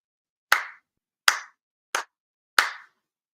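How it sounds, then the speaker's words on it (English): Four sharp ceremonial hand claps at a Shinto shrine ceremony in Chula Vista, evenly spaced and close, each a crisp isolated smack with short decay and no voices. "4 sincere claps along with the head officiant."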